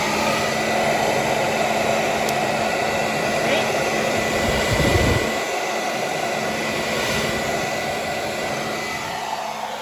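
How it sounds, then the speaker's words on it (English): A hairdryer blows hot air onto vinyl covering during a motorhome makeover, a steady close whoosh that dips briefly in the middle and carries on. "So take your hairdryer"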